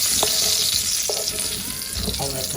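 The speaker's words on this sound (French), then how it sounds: "mes saucisses sont finies, de chaque côté elles sont bien grillées" Sausages sizzle and crackle in a frying pan, a steady close hiss of hot fat with a few soft clinks and stirring sounds and no talking.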